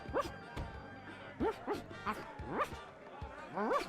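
A dog barks and yips several times in The Secret of Monkey Island, its short cartoonish woofs repeating over background music and speech.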